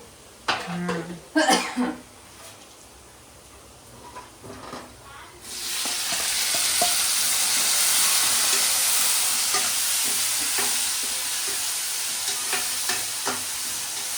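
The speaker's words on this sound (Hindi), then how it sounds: "ये लहसुन का तड़का लगा लिया है" A few coughs and clatters, then a loud, steady sizzle of garlic tempering in hot oil in a pan, continuing with light stirring scrapes.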